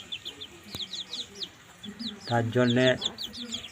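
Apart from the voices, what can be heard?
chicks chirping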